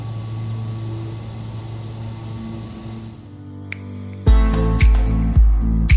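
Engines of a Carenado 690B Turbo Commander in a flight simulator game, departing McKinley Field: a steady low drone first, then a sudden switch to a much louder, fuller roar with a few heavy thumps.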